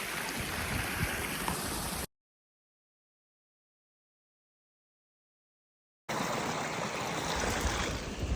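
Steady broadband rush of the flowing Rio Grande at Big Bend, continuous and fairly close, cut by a few seconds of total silence in the middle before resuming.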